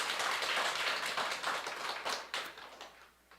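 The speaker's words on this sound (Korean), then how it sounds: "큰 박수로 우리 집사님" A church congregation claps during Sunday worship to welcome a family up front, brisk rapid hand claps that gradually thin out and fade toward the end.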